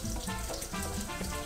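A brief burst of busy sizzling and spattering from sausage frying in a pan, close and continuous.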